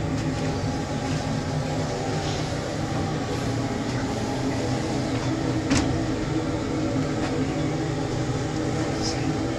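An air blower fan for a greenhouse heat sink system runs up, a steady broad whooshing hum with a low drone, close and constant, with occasional faint clicks and some talking.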